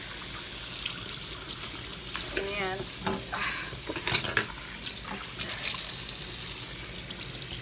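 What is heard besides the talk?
water running from a tap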